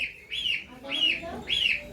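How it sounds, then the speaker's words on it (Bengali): A goose gives three close, evenly spaced honking calls, each a rising and falling nasal note, in a quiet outdoor setting. "ওদের হাঁস ডাকছে"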